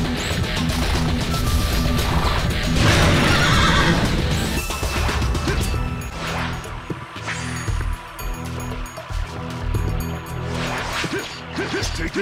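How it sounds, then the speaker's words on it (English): In the PS2 game Devil Kings, cavalry horses whinny loudly amid a chaotic rush of galloping hooves, crashes and clashing impacts, a dense, continuous battle din. "Prepare to feel the Minotaur's cavalry stampede!"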